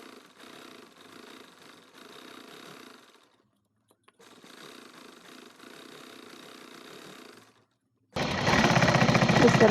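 A sewing machine stitching a petticoat, running in two steady rattling bursts separated by a short pause, followed by a much louder, harsher mechanical clatter at the end.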